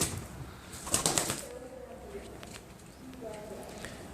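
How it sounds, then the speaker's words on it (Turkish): Pigeons released from a loft, with a burst of wing flapping and scuffling near the start, then lighter fluttering and faint coos amid background noise as someone speaks. "Şöyle kuşlarımız da çıksın."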